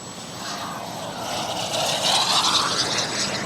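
A giant 3.4 m Global Jet Club Viper Jet RC model at full power, its turbine roar loud and steady and swelling slightly as it pushes up over the top, with no voices.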